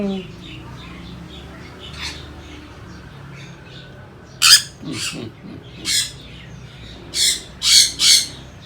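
Several sharp, squawky bird calls ring out in bursts over a quiet background, some close and loud, with faint voices murmuring early on.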